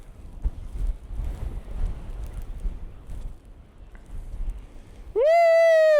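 Wind buffets the microphone during a blizzard at the Hyland Hills snowboarding hill, a steady low roar for about five seconds before a loud, sustained tone abruptly cuts in at the end.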